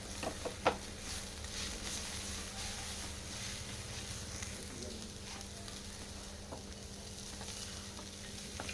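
Boiled Maggi noodles and masala stirred together in a hot frying pan: a steady close sizzle with repeated scraping and stirring strokes, a few sharper knocks near the start.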